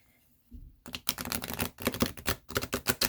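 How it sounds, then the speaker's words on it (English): Tarot cards are riffle shuffled close up, a burst of rapid fluttering clicks that comes in quick repeated waves after a short quiet start. "I believe I can shuffle them. The riffle shuffle."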